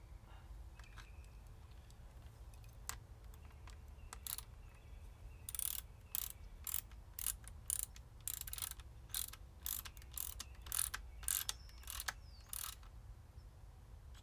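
A screw on a motorcycle windscreen mount on a Yamaha FZ07 is tightened with a ratcheting tool, quiet at first and then a close series of small, irregular clicks.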